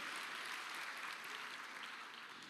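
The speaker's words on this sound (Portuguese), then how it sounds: "Vamos dar uma salva de palmas para o nosso senador Raimundo Lira." Crowd clapping steadily for Senator Raimundo Lira at the opening ceremony of the 3rd CONFEP in Campina Grande, Paraíba, a dense, even wash of applause that holds for the whole stretch.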